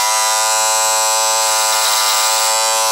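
Freshly sharpened barber clippers hum with a steady, loud electric buzz as they cut through hair, running alone without pause.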